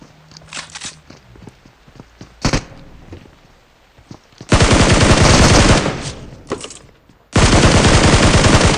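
Automatic gunfire from PUBG Mobile gameplay: a few scattered shots and footsteps, then two long, loud sustained bursts of rapid fire close by, with no talk.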